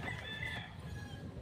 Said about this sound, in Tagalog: Oh, nabidyohan mo na yung mga manok mo.